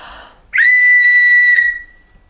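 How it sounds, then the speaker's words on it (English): A single loud, steady whistle blown for about a second, clear and high, after a brief breathy lead-in, then fading out. "Children always love the whistles."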